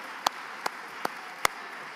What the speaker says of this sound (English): give your give a clap for yourself, please